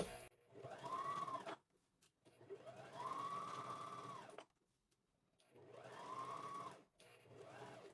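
Sewing machine stitching fabric for an invisible pocket, running in three sustained bursts of steady whirring with short quiet pauses between them, close and clear with no talking.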